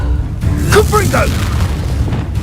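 A Confringo blast spell in the Hogwarts Legacy video game detonates as a loud, continuous booming rumble, with brief voice-like tones over it partway through.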